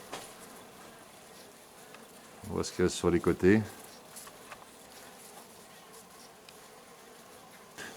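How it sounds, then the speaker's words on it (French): Bees swarm around a giant nest being removed from a château, a faint continuous buzz beneath someone speaking French, with a brief louder burst of his voice mid-clip. "Donc voilà, il y a encore des abeilles ici."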